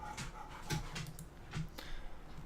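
A dog pants heavily and continuously in the background of a workshop room, with a faint whimper and soft rhythmic breaths repeating under steady low noise.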